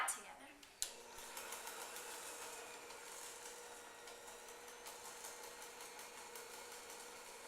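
Sugar being mixed into cupcake batter in a bowl, a steady whirring mixer running continuously after a sharp start, moderately close and fairly quiet.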